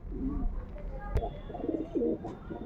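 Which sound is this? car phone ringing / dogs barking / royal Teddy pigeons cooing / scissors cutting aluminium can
royal Teddy pigeons cooing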